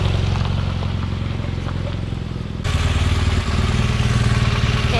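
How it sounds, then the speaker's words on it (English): A motorcycle rolls up close and settles into a low, steady idle as it is parked among tall pine trees, its engine note stepping louder midway through. "He's going to come on over and park the bike right there."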